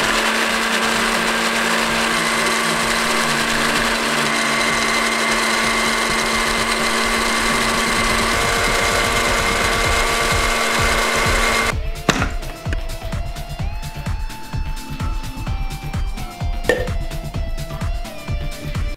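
A small kitchen blender or chopper grinds a homemade face scrub mixture with face cream until fine, a loud continuous motor whine throughout that shifts pitch and texture midway as the blend loosens.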